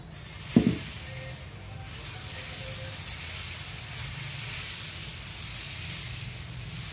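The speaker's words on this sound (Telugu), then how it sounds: "ఇప్పుడు ఈ పిండితో పెసరట్టు వేసుకుందాం" Pesarattu batter poured onto a hot pan smeared with onion, a brief knock followed by a steady broad hiss and sizzle that holds for several seconds.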